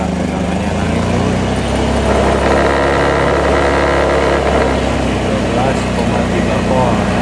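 A carbureted Honda Beat scooter engine runs close by with a steady mid-pitched drone that swells as the throttle is opened, while a person talks over it.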